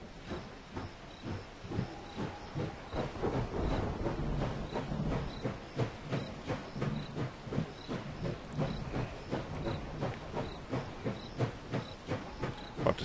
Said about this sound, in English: Let's get the train moving for a little bit.